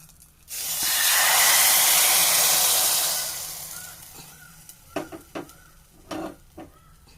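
Hot tempering is poured into sambar and bursts into a loud, close sizzling hiss for about three seconds. The hiss then fades, and a few scraping knocks follow as a spoon stirs it through the pot.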